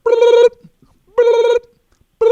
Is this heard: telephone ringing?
yes